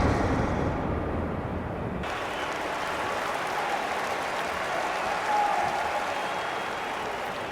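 A crowd applauds a women's 10-metre platform dive at a diving competition, a sustained roar of clapping and cheering that swells briefly then holds steady, broad and somewhat distant.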